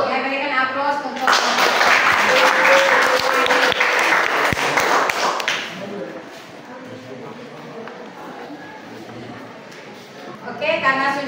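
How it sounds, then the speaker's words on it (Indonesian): A classroom audience applauds after a student presentation, loud sustained clapping that swells quickly, fades gradually, and gives way to a voice speaking near the end. "berikan aplaus untuk"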